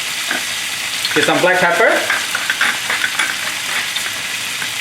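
Chicken for moo shu chicken stir-fries over high heat with a loud, steady sizzle and busy stirring. A voice speaks briefly over the frying.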